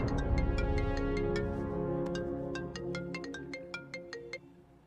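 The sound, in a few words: phone ringtone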